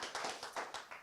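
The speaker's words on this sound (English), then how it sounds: "More applause." An audience at a documentary film festival Q&A in the Hamptons claps in a brief burst of applause, dense and close, with no talking over it.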